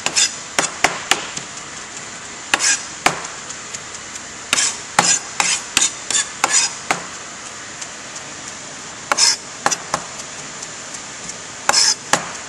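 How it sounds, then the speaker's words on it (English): A knife chopping cilantro finely on a cutting board, sharp close taps in quick irregular bursts with short pauses between, rocking back and forth. "next we're going to do our cilantro, finely chopped. There you go, back and forth"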